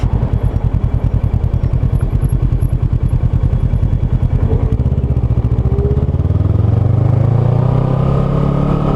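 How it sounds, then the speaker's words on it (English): A 2009 Kawasaki Ninja 650R fitted with a Yoshimura TRC aftermarket exhaust, its engine idling with a loud, rapid, lumpy throb close by before revving up into a rising, steady roar. "it's still significantly louder than the stock exhaust"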